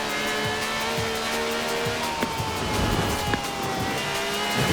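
Car drifting in the racing video game Forza Horizon 4, its tires squealing in long tonal whines over a steady, loud engine drone, with no talking.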